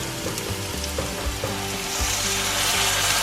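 The main ingredient for a home-cooked Christmas recipe hits a hot frying pan, setting off a loud continuous sizzle with some stirring and scraping underneath.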